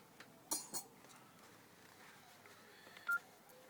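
A few faint telephone keypad tones sound in a quiet room, short bright beeps spaced irregularly with a couple of light clinks, soft and somewhat distant.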